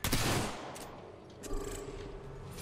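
Apex Legends gunfire lands as a loud opening burst of shots, then fades into a tail and a second smaller hit, with no talking over it.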